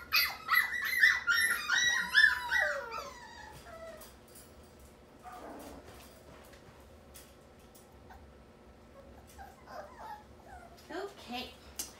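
A young Gaelic Ghost puppy whimpers and yips in high, wavering cries, strongest at the start and fading later, with a few faint yelps toward the end under soft background noise.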